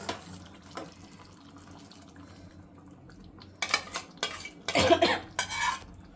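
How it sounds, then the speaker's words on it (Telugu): Chicken stirred into gravy in a cooking pot, with scattered metal clinks and scraping bursts growing louder and busier toward the end over a quiet kitchen background. "ఈ గ్రేవీ కలుపుకోవాలండి ఇందులో"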